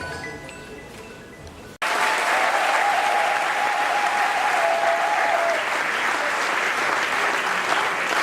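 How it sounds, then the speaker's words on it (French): Loud, dense applause from an audience greeting opposition delegates at a political convention, starting abruptly after a brief moment of quieter sound and continuing as a sustained, even roar of clapping. "sous vos applaudissements"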